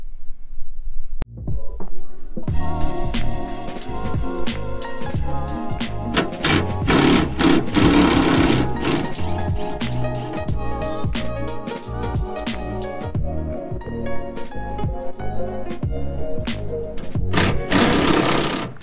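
A power driver whirs as it backs out 8mm screws from a 2015-2021 Subaru WRX duckbill spoiler, in loud close bursts of buzzing motor with short pauses between screws.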